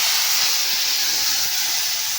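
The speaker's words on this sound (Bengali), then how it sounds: "এবার টমেটো পেস্টটা এটার মধ্যে ঢেলে দেব" Tomato paste hits a hot pan of spiced oil and erupts into a loud, continuous hissing sizzle that holds steady throughout with no voices.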